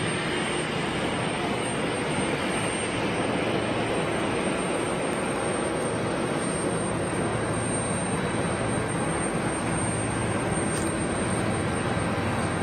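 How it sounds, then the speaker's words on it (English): Aircraft engines roar continuously at an airport, a loud, broad, unbroken rumble with a thin, high-pitched whine riding steadily on top throughout. "There's obviously the high-pitched whine of some of the smaller aircraft, air packs"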